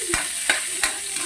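Garlic fries in a pan for duck adobo cooked in coconut milk, with a steady sizzle behind three sharp scrapes of a spatula stirring at an even pace.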